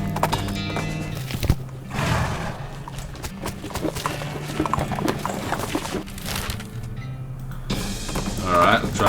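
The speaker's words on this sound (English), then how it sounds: "You help the guy into the back of your horse and give him a lift back to town" Horse hooves clip-clop steadily in the Western game West of Loathing, loud and close, with a whinny near the end and a voice talking over part of it.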